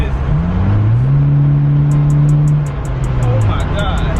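A Honda Civic with an aftermarket Mega Power exhaust revs up close and loud, its deep engine note climbing and holding before easing off, with a fast ticking pulse sounding over the top.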